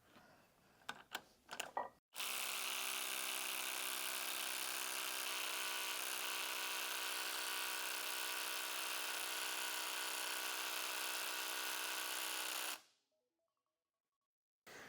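A 12V brushless impact driver hammers continuously on an impact tester for about ten seconds, a loud, steady buzzing rattle that starts abruptly after a few short bursts and cuts off sharply, leaving near silence.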